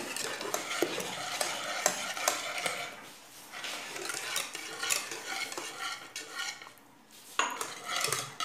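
A spoon stirring a warm banana dessert mixture with melting butter, scraping and clinking against the bowl in steady, close strokes, with a short pause midway before the stirring resumes.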